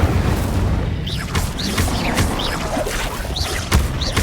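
Incendio fire spell blasts in Hogwarts Legacy, loud booming whooshes and crackling bursts layered over a dense roaring rumble, with a sharp impact near the end.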